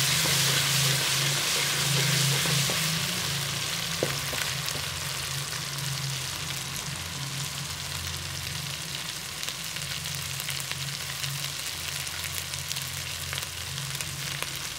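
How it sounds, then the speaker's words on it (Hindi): Ginger garlic paste fries in a pan, giving a steady, close sizzle and crackle that fades slightly after the first seconds, with no talking. "अदरक लहसुन के पेस्ट को थोड़ा फ्राई कर लेंगे।"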